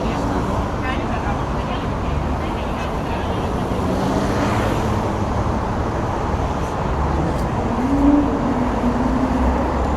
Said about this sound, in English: on Nevsky, the traffic is big, even at almost 9 o'clock.